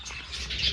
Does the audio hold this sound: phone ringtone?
no